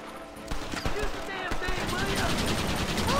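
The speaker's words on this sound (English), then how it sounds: "I am shooting, dude." Gunfire in Red Dead Redemption: a rapid series of sharp shots cracks over a busy in-game background, with someone talking over it.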